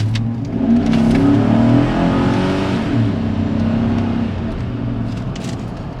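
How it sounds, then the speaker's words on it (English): Chevrolet Silverado pickup engine under hard acceleration, a loud close revving drone with rising harmonics that climbs for a few seconds, then eases and settles into a steady hum, with no talk over it. "So hard acceleration coming here right now."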